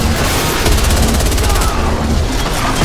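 Warhawk multiplayer battle with gunfire, a dense, continuous rattle of rapid shots and booms filling the short stretch at steady high loudness.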